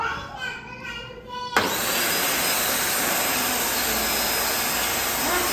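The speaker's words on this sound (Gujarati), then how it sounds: "વેક્યુમ ક્લીનર હે" A household vacuum cleaner, newly unboxed and fitted for window cleaning, starts abruptly after a quiet moment and then runs at a steady, loud, constant whine with a broadband roar.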